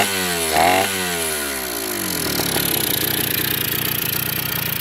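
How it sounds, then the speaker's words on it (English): A Kawasaki KDE100 dirt bike with its side cover off revs up, drops back and settles into a steady, buzzy two-stroke idle, loud and close with no voices. "And there she is, a Kawasaki KDE100. You can hear it a little louder with the side cover off, but sounds pretty good."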